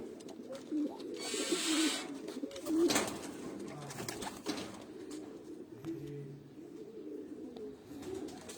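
Pigeons coo steadily in low, throaty murmurs, several birds overlapping, with a brief burst of rustling or wing flapping early on.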